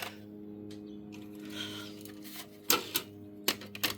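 An early-1980s top-loading VCR takes in a tape under a low hum, then gives a series of sharp mechanical clacks and clunks from its loading mechanism, close by.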